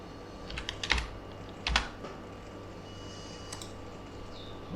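Several quick keystrokes on a computer keyboard, clustered in two short bursts near the start, then a few faint taps in a quiet room.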